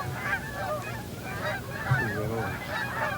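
Canada geese honk repeatedly as they fly in toward hunters in a field, the calls layering into a loose, overlapping chorus at middle distance with no talk.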